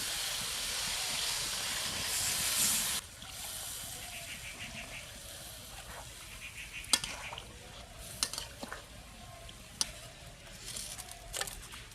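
Water is poured into a pan of sizzling spiced radish and potato, a loud hiss and steam burst for the first few seconds settling into softer simmering with occasional clinks and scrapes of a utensil.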